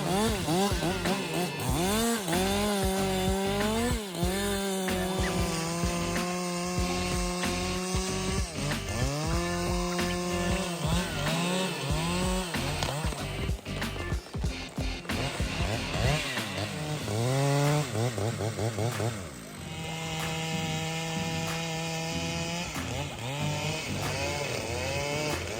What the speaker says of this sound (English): cutting down two large trees with a Husqvarna 395 XP chainsaw